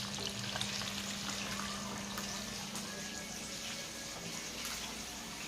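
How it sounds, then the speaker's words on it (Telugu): Eggs frying in a pan with turmeric give off a steady, soft sizzle, close and continuous with no talking over it. "ముందు పసుపు ఎందుకు వేసుకుంటామంటే గుడ్లు అడుగంటవు, దాని తోడు ఎర్రగా ఏగిపోతాయి"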